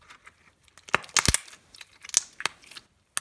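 Crunchy slime stretched slowly by hand, producing sharp crackling crunches and small pops in irregular bursts, close and moderately loud with no talking.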